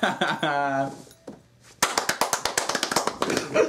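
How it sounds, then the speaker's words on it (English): A rapid series of sharp knocks, about a dozen quick taps in a steady rhythm, follows a short stretch of someone speaking. "Knock, knock."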